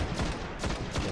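Rapid bursts of weapon fire from the video game Destiny during a multiplayer match, a dense, continuous volley filling the whole short stretch.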